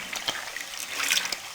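Chana dal poured into hot water in a kadhai, giving a brief watery splash and trickle, close and fairly soft, with no talking.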